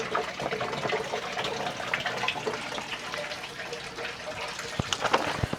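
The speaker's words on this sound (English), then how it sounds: "I'm just dumping all the substrate in one spot essentially" Sand substrate dumped in one spot into an aquarium's water makes a steady, close rushing and gushing pour that lasts throughout, with a few sharper splashes near the end and no talking.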